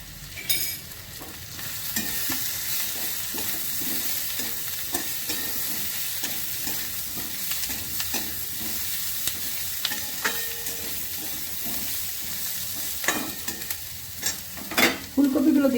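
Potato, onion and ginger fry in a pan with ground coriander, cumin and chilli powder added, giving a steady close sizzle. Scraping stir strokes from a spatula recur throughout, and a few louder clacks come near the end.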